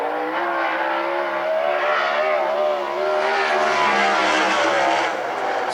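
A sprint race car at a Western Sprint Tour qualifying session on the Central Washington State Fair racetrack, its engine a loud, steady high-revving roar held for several seconds with slight pitch wavering as it laps.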